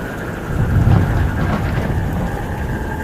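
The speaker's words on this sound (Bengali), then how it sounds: "এমন আকাশ ভাঙা বৃষ্টি হলো" Heavy downpour on a rainy night, a loud, steady wash of rain with a deep low rumble swelling briefly near the start, heard without any talk.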